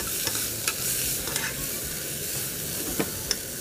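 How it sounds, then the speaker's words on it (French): Sausages sizzling in a pan with crushed garlic, onion and ginger: a steady, loud frying hiss with a few sharp pops and stirring clicks. "Voilà, on veut vraiment que ça frit bien."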